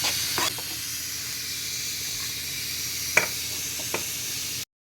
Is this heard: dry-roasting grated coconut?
yes